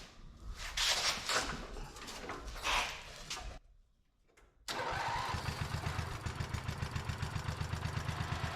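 A 1968 Wheel Horse lawn tractor engine cranks and catches after a brief pause, then settles into a steady, loud, close running chug with a regular pulsing beat.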